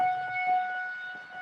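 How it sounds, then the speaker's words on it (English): Tornado sirens during a storm outbreak in Ohio: a steady, sustained multi-tone wail, fairly loud and alone, with slight swells in level. "You guys are hearing the tornado sirens like we're seeing here."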